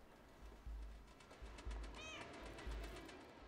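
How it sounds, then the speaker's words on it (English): A cat meows once in the video game Stray, a rising-falling call over a faint ambient game soundscape with low rhythmic thumps and light chimes, quiet overall. "Oh, I meowed"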